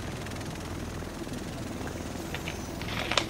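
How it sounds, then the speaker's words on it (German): A helicopter in the video game The Division drones steadily with a dense, continuous rotor and engine roar throughout, close and loud, with a few faint clicks near the end. "Der Rest von uns sitzt in diesem Heli."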